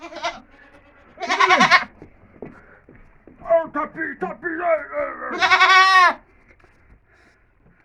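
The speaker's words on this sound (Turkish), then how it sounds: "Kaybolan keçimiz." A lost goat in a rural village bleats loudly and close twice, with short, quavering cries a few seconds apart, while people talk and laugh in between.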